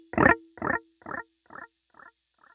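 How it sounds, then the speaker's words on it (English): Electric guitar note played through a dark analog eighth-note delay, repeating about six times within the window in an evenly spaced, steadily fading trail, heard alone without any talking. "This one is going to be getting a little bit darker as it goes on. It's got a lot more repeats"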